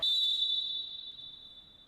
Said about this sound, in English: But we heard the whistle.